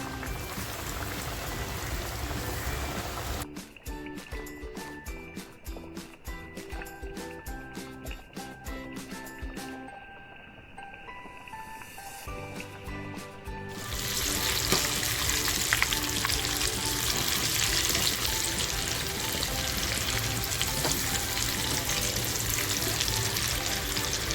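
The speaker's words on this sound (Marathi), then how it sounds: "तेल छान तापलंय आता असा एक एक पीस तळून घेते" Homemade KFC-style chicken pieces deep fry in hot oil with a loud, steady hissing crackle. A stretch of tonal music briefly takes over before the dense, rain-like sizzle returns even stronger.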